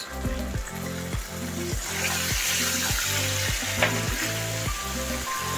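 Sweet chili sauce and soy sauce stirred in a pan with chili garlic oil, a continuous close sizzle with faint scraping strokes of a utensil, quiet and steady with no talk.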